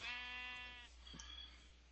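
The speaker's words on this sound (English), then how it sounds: "Here you go, little sheep." A Minecraft sheep gives one drawn-out, wavering bleat up close, followed by quieter game ambience with a soft thud.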